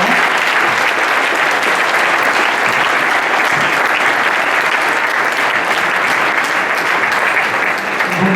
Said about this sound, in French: Vous pouvez évidemment applaudir les intervenants.